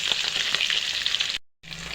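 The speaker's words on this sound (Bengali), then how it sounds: "মাছগুলো প্রায় ভাজা হয়ে গেছে।" Pieces of hilsa fish fry in oil in a pan, a steady, loud, close crackling sizzle that cuts out briefly near the end and then resumes more quietly.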